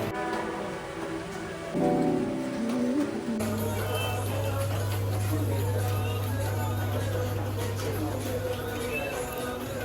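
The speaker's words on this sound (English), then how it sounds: "Shooting a shot and it started raining" Steady rain patters continuously in the background while a low droning hum runs underneath for most of the stretch.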